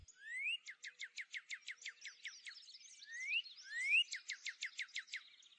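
A male songbird sings to attract a mate, delivering rapid trills of sharp repeated high notes broken by swooping whistled phrases, clear and close against a silent background.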